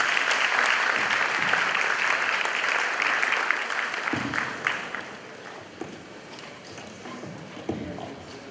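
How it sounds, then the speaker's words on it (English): An audience at a Supreme Court anniversary lecture held at Manhyia Palace applauds to welcome the Chief Justice, steady crowd clapping that gradually thins, with a voice speaking underneath in the later part. "With a round of applause, shall we welcome the Chief Justice for his remarks"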